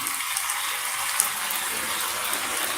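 Heavy torrential rain hisses steadily at night, floodwater rising nearby, a dense, even wash of falling water with no pauses.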